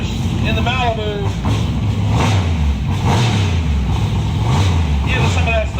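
A Chevrolet Malibu G-body race car running nitrous, its engine droning and revving loudly nearby while people talk over it.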